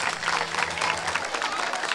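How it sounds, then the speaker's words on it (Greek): Crowd at a village dance festival in Prastio Kellakiou gives warm applause for the orchestra, a thick, continuous clatter of many hands with a faint low hum beneath and murmured voices mixed in. "Να δούμε αν με ακούτε με ένα θερμό χειροκρότημα που θα το δώσετε πρώτα απ' όλα στην ορχήστρα μας"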